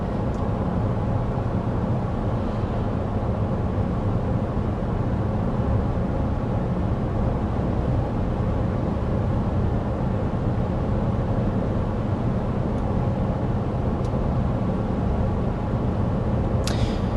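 Cabin noise inside a 2024 Chevy Traverse Z71 cruising at about 55 mph with the fan on its lowest setting, a steady, even low road and wind rumble, with no talking.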